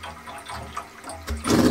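Water rushing into the chambers of a whole-house water filter on a rainwater harvesting system, a hissing, gurgling flow that swells louder toward the end.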